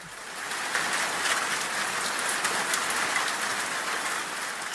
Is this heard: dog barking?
no